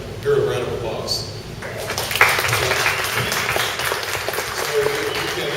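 Audience clapping at a community outreach talk in Louisville rises after a brief pause and continues as a moderate, fairly steady round, with voices talking over and among the applause.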